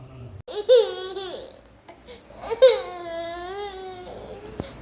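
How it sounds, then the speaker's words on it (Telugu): A baby boy cries and wails in two drawn-out bursts at home while his father leaves for the office, loud and close with brief pauses between cries. "వాళ్ళ డాడీ వీడిని వదిలేసి ఆఫీస్కి వెళ్తున్నారు అని ఏడుస్తున్నాడు"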